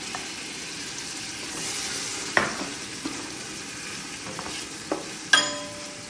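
Chopped tomato hitting a hot pan for a Filipino-style dish, then a steady sizzle and frying hiss, with a few sharp clinks and scrapes of a utensil stirring close by.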